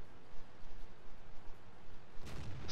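A Tiger I tank gun fires once in World of Tanks, a single short blast near the end after a faint, quiet stretch of ambient game noise.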